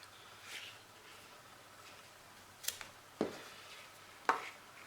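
Victorinox Hunter Pro M Alox knife drawn through a slicing cut, several faint, brief scraping and tapping contacts spaced over quiet background.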